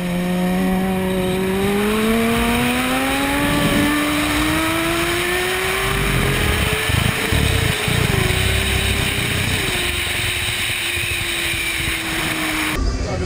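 Car and motorcycle engines rev at a Martinique motor meet, one engine climbing steadily in pitch over several seconds and holding a loud, sustained drone, with rumbling crowd noise and voices underneath.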